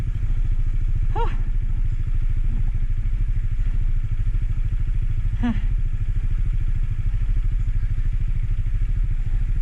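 A motorcycle engine chugs steadily at a constant throttle, close and loud, with a couple of brief higher whines rising over the putter.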